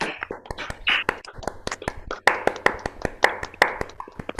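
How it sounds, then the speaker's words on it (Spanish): Scattered clapping from a small group at the end of a lecture, uneven and sparse, the hand claps close and distinct, with faint voices underneath. "Bueno, aplaudimos a Yago entonces."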